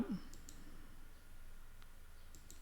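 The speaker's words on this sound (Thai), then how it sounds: "ให้คลิกขวานะครับ" A computer mouse being right-clicked, heard as a few faint, close clicks spread across a quiet room background with no speech.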